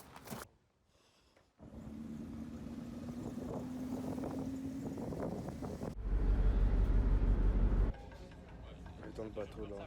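Ferry engine drone on board, a steady low hum with broadband wind buffeting; after a brief quiet gap the rumble swells louder with heavy low wind noise, then eases back near the end.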